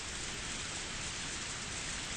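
Steady rain in a visual novel game scene: a soft, even hiss of falling rain that holds constant throughout, quiet and with no voices.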